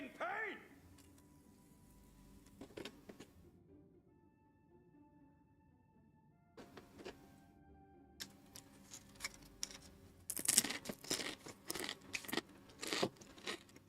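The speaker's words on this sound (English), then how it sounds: "Do apologize for the loud sound of me chewing" Loud crunching and chewing close to the microphone comes in bursts of crisp clicks and crackles, quiet stretches between them and a denser cluster of crunches toward the end.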